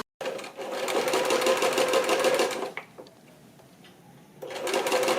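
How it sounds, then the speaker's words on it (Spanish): Sewing machine stitching the side seam of trousers being let out at the waist, a close, steady whir of fast stitches that stops briefly and then starts again. "Yo os aconsejo que primero cosáis un lateral y luego ya cosemos el otro"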